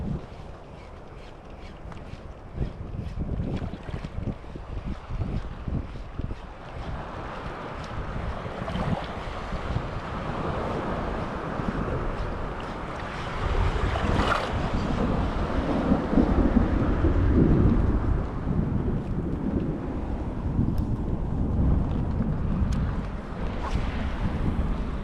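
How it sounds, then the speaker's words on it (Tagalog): Heavy rain at sea drumming down around a small fishing boat, a dense broadband hiss with wind buffeting the microphone, building louder through the middle and staying close and continuous, with no voices. "Yan ang ulan. Lakas oh."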